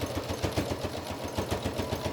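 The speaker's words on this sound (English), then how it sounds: "So I'm going to just sew along this edge." A sewing machine stitches along the edge of a homemade fabric face mask, giving a steady, rapid, close-up mechanical whir with an even rhythmic pulse and no talking.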